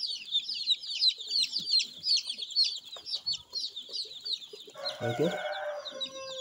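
A brood of day-old chicks cheeps continuously in rapid, high, overlapping peeps at close range, and a voice briefly speaks over them near the end.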